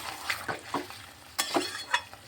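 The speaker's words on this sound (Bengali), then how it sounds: "এই যে এখানে কষিয়ে নিচ্ছি" Potatoes and spices being sautéed in a pan for yogurt dum aloo, with a spatula scraping and stirring in a few short, close strokes over a faint sizzle.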